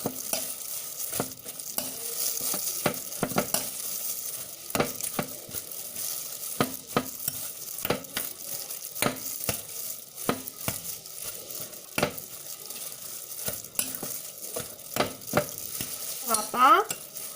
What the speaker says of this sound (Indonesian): setelah dimasukkan telur adonan seperti ini, kita aduk sampai rata kembali